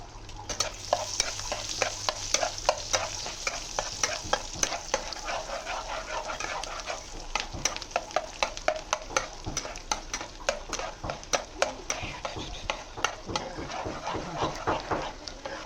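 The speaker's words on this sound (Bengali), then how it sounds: "এই গার্লিকটা একটু হালকা ফ্রাই হয়ে গেলে" Garlic fries lightly in a pan at home while being stirred. A continuous sizzle runs underneath rapid, clattering spatula strokes that tap and scrape almost without pause.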